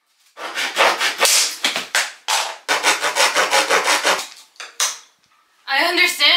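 A tiny handsaw cuts through a board in quick back-and-forth rasping strokes, close and fairly loud, with short pauses between bursts and a brief voice at the end.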